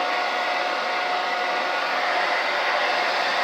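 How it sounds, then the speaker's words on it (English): A hair dryer blows hot air onto a beard and hair, making a steady, loud, unbroken whoosh close by with no voices. "this doesn't take that long to blow dry either"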